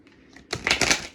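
A quick riffle of playing cards being shuffled, a short crisp flutter of clicks with no one talking.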